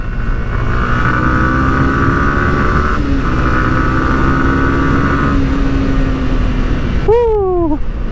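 A Yamaha YZF-R15 V3 motorcycle accelerates at speed on a test ride, its engine droning loudly and steadily under heavy wind rush before a sharp rev change near the end.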